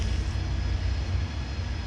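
Outside on collection day, a bin lorry picks up rubbish and its engine gives a steady, loud, low rumble that runs on without a break.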